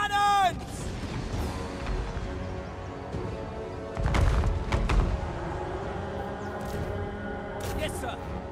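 Cannons fire during a Total War Warhammer battle: deep booming thuds rise out of a dense din of battle noise, with a heavy burst near the middle, while voices shout over it.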